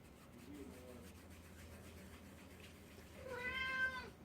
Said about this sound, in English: You hear my cat in the background.